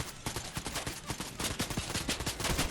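Rapid SMG gunfire in Fortnite during a boss fight, dense bursts of sharp shots firing in quick succession, fairly steady and close throughout.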